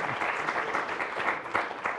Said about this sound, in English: All right, slow clap.